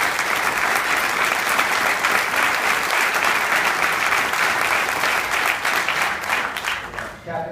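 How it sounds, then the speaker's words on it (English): A crowd at a high school Circle of Honor ceremony claps in sustained, dense applause that stays strong for several seconds, then thins and fades near the end. "So would you please give a round of applause?"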